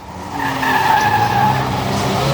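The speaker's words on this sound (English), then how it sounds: "the leader spun himself down here on the Bovingdon turn" A big racing van spins and skids on the Bovingdon Raceway oval during a bangers race, tyres squealing in a steady drawn-out scrub over engine roar, close and without commentary.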